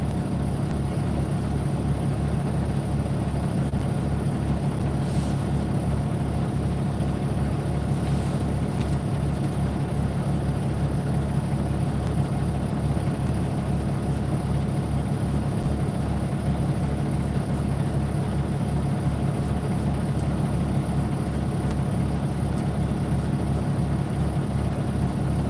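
A semi truck engine and its fan run steadily on a snow day around Buffalo, NY, producing a continuous low idling drone with a fan hum that holds unchanged throughout, with no talking.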